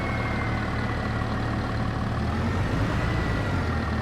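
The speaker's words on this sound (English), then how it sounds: "Gorgeous, gorgeous tractor." A Massey Ferguson tractor engine runs at a steady idle, a continuous low rumble with even harmonic drone held close and constant throughout, with no talk over it.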